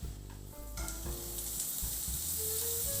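Lion's mane mushrooms hit hot olive oil in a frying pan and start a loud, steady sizzle close up. A clatter of stirring and pan movement sits under the continuous frying hiss.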